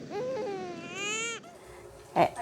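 A baby's cry from the TV series Lost, one long wailing cry that rises in pitch, then breaks off, followed by a brief louder burst near the end.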